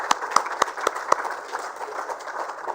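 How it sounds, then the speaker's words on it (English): Applause from the audience at an Indian sanitation awards ceremony: a few sharp individual claps up front, then a soft sustained patter of clapping that gradually thins out, heard from some distance. "I think this deserves a big round of applause."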